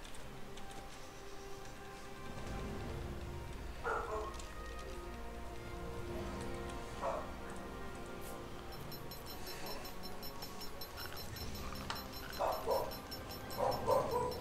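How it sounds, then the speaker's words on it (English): A dog in the ARK: Survival of the Fittest game gives a few scattered barks and whimpers against a steady backdrop of falling rain, with no voices. "Dang it, dog. Hush."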